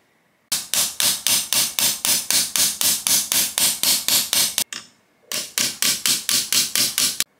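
Hammer blows drive roll pins into a DeWalt quick clamp: loud, sharp, evenly spaced strikes, about two dozen, in two rapid bursts split by a brief pause.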